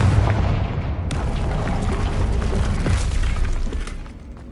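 An explosive Confringo spell blast in the Hogwarts Legacy video game: a sharp booming burst near the start, trailing into a rumbling, crackling wash that fades away at the end.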